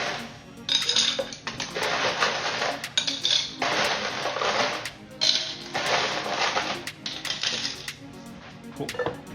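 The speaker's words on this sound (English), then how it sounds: "And then we will grab some ice." Ice cubes are dropped into a cocktail glass in several clattering bursts, with hard clinks and rattles separated by brief pauses, close and fairly quiet.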